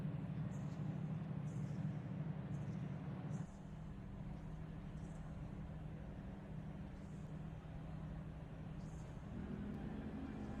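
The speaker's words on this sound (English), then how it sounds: "You can hear the engines firing up." Several GT3 racing car engines in a racing video game idle in a steady low rumble, with a brief drop in level early on and faint clicking and beeps above.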